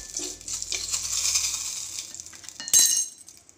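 A mustard seed tempering with asafoetida and turmeric is stirred in a pan, giving a steady sizzle with a sharp utensil clink near the end.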